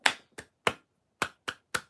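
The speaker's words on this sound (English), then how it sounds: "三三七拍子" Six sharp hand claps spaced irregularly in a three-three-seven cheer pattern, close and crisp with silence between them.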